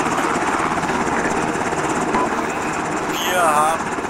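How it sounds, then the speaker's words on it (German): A helicopter's rotor chops steadily and loudly in the video game Arma on the Lingor map, a constant rhythmic thrum with a brief electronic chirp near the end and voices talking over it. "Einfach ab in den Heli."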